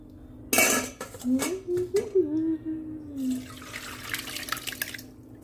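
Water pours and drains as soaked paneer is strained, while a metal pot clanks against utensils, followed by trickling and dripping sounds close by.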